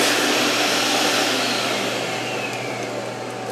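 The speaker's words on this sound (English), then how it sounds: "I'm going to suck the chips out with the vacuum." A shop vacuum sucks metal chips out of a machined part in a machine shop, a loud, steady, close roaring whoosh that holds throughout with only a slight fade toward the end.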